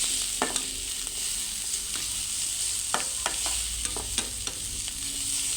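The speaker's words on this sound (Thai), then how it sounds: "คั่วให้พริกเราสุกนะคะ ให้หอมให้เครื่องเราหอมเลย" Chilies and curry-paste spices are stir-fried dry with a few drops of oil in a pan, a soft steady sizzle broken by sharp scraping clicks of a spatula stirring at an uneven pace, close by with no talking.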